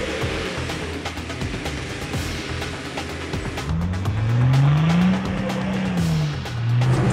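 4WD engine revving hard as the throttle is pushed to pull free off-road in wet, muddy ground, a loud rising and falling engine drone with wheelspin noise, close by and without talk.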